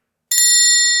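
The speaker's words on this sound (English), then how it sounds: "your phone's going off, Lloydy." A phone notification alert goes off suddenly and loudly after a moment of silence, a bright sustained electronic chime ringing on alone.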